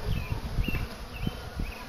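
Forager honeybees buzz around a swarm trap bait box, a steady close drone of many wings with individual bees flitting past and faint outdoor noise beneath.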